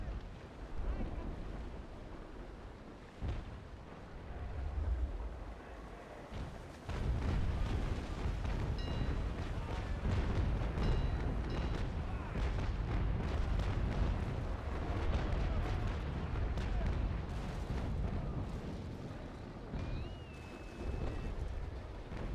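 Naval cannons from sailing warships in Naval Action boom in a continuous rumbling barrage, heavy low thuds blending with wind and sea noise, with players talking over it.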